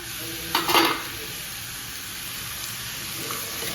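Pigeon peas curry gets a quick stir in a pan, a short scrape and clatter over a soft, steady sizzle that carries on alone.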